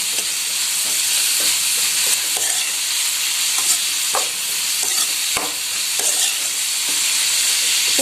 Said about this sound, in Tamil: உப்பு சேர்த்து நல்லா கலந்து விட்டுருங்க.